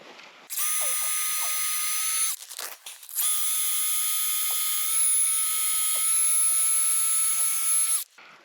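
A power drill with a long masonry bit bores steadily at close range, a loud high whine running from start to finish with a brief stop and restart partway through, and no talk over it.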